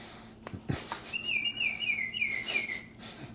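A bird sings a clear whistled phrase outdoors near a barbecue smoker, a descending warbling call standing out over faint background noise and a few knocks.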